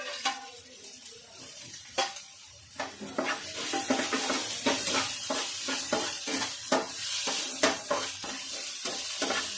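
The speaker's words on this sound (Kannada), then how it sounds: "ಈಗ ಟೊಮೆಟೊ ಈರುಳ್ಳಿ ಎಲ್ಲ ಬೆಂದಾವು, ಅದ್ರಾಗ ತುರಿದಿಟ್ಕೊಂಡಿದ್ದು ಕ್ಯಾರೆಟ್ ಹಾಕ್ತೇನ್ರಿ" Grated carrot stirred into tomato and onion frying in a pan for a poha recipe: steady sizzling with repeated scraping stir strokes, close and moderately loud, with no talking.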